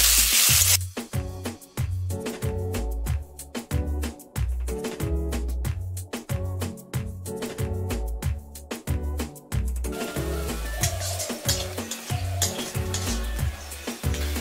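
Sliced capsicum and a green chilli sizzle steadily in a hot pan of oil for a thin egg curry, with occasional stirring scrapes and a rhythmic background beat running throughout.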